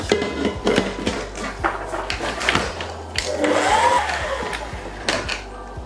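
An electric mixer whirs steadily through cake batter with eggs, its motor hum broken by repeated clicks and knocks of the beaters against the bowl, close and fairly loud.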